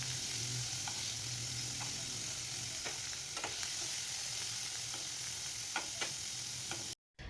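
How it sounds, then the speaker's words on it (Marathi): Paneer pieces fry in hot oil, giving a steady close sizzle with occasional small pops and ticks as pieces are added and turned, with no talk. "आता एक एक करून सर्व पनीरना छान असे थोडेसे परतून घ्यायचे"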